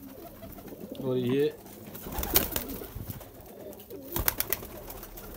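Kasoori pigeons cooing close by in a soft, throaty burst, with rustling and handling noises and a brief spoken word.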